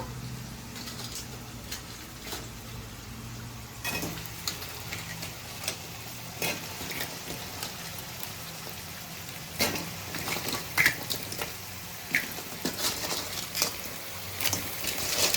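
Sea crabs, two kilograms of them, sizzle and fry in a pan of oil with ginger-garlic paste, a steady crackling hiss with occasional sharper pops and stirring taps, close and fairly quiet.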